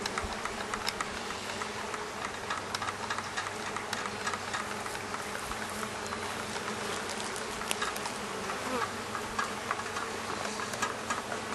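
Honeybees buzz densely around a hive during an inspection, a steady, close swarm drone with a few individual bees passing near, no voices.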